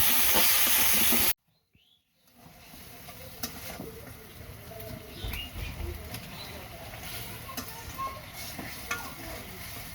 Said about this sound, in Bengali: এই যে মশলা কষানো হয়ে গেছে